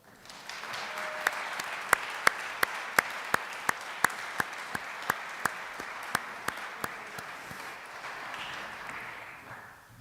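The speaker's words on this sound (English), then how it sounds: "I think that's worth another round of applause" A gathering gives a warm round of applause, a soft wash of many hands with one nearby clapper's sharp, evenly spaced claps standing out, fading gently toward the end.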